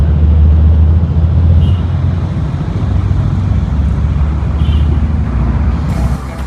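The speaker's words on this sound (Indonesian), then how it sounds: "truk-truk sama bis-bis tuh pada lewat tengah kota" Trucks and buses passing through a town centre while the main road is under repair, heard as a loud, continuous low traffic rumble of engines going by, with no voices.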